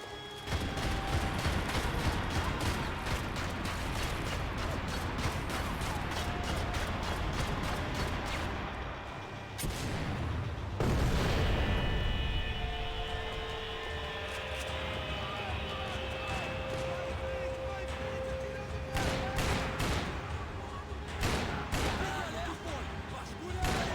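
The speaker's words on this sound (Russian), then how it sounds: "Последний выстрел." Gunfire in the video game Max Payne 3, rapid sustained bursts of shots crackling almost continuously for most of the stretch, with a brief lull, while players talk over the game action.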